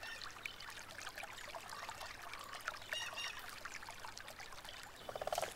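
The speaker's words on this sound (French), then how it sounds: "Un ruisseau débordant de vie traverse l'ancien habitat des castors." A lively stream trickles and pours steadily through former beaver habitat, a soft continuous watery babble that stays fairly quiet throughout, with faint bird or frog calls near the end.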